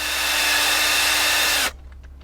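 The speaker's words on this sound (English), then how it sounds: "my idea was to drill this out to be able to fit the new assembly in place" A power drill bores out a light fitting in a campervan, whining loudly and steadily at constant speed before stopping abruptly, after which only faint background remains.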